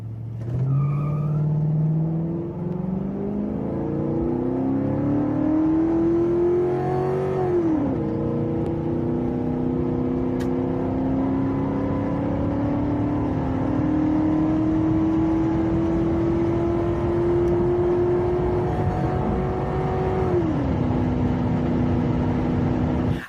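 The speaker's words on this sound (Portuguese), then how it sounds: "Inclusive a aceleração dele é muito boa, mesmo sendo aquela banheirona, né? Ele tem um V8 ali e puxa muito bem." A Ford Crown Victoria V8 engine accelerates hard, its note climbing steadily through the gears with two distinct shifts, close and loud throughout.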